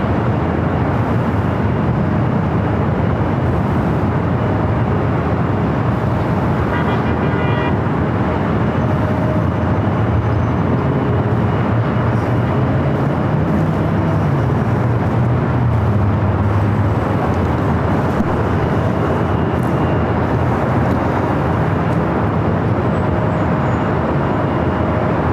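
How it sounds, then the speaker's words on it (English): A United Airbus A321neo touches down on runway 24R at LAX, a steady, loud jet roar with low rumble holding for the full stretch, rising slightly midway, with no talk over it. "the A321neo with United about to touch down at 24 right"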